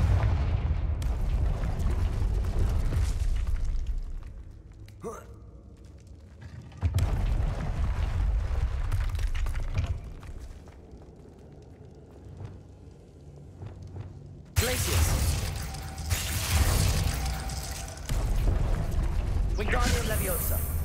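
Confringo fire-spell blasts in Hogwarts Legacy, a run of loud booming bursts with rumbling, crackling tails and combat clatter that rise and fall through the stretch, with a denser barrage of explosions near the end; a voice calls out spell names over it.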